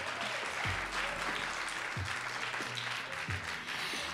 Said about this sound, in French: qu'on peut applaudir pour le Portugal